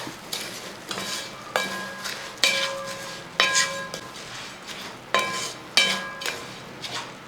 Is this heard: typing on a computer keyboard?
no